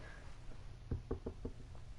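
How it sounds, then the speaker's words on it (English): Knuckles rap on the wood-like frame under a couch, about six quick, dull knocks in an uneven run, close but fairly soft against a quiet room. "knock on wood"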